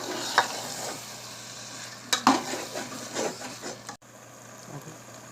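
A spatula stirs a potato and egg mixture in a hot pan, with scraping strokes and metallic knocks over a low sizzle, a few sharper clanks toward the middle.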